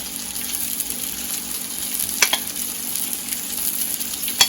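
Sliced bananas and cinnamon-topped French toast sizzle steadily in a hot pan, a constant close frying hiss with a few faint clinks and stirring scrapes.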